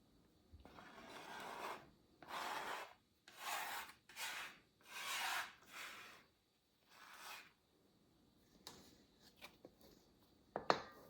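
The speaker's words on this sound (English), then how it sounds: "I'm gonna scrape that off with my handy dandy dough scraper" A small pink plastic dough scraper scrapes butter off a surface in repeated short rubbing strokes, close and fairly quiet, with a few sharper clicks near the end.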